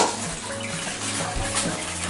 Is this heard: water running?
yes